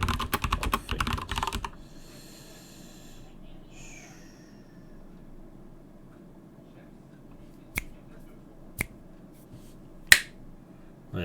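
Soft finger clicks of the kind used to train animals, three or four sparse, sharp snaps spaced a second or more apart, following a brief burst of noise over a quiet background hum.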